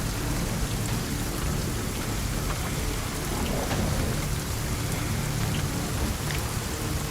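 Steady heavy rain with rumbling thunder laid down as an ambient effect during a tabletop role-playing game session, constant and dense from start to finish with no talk.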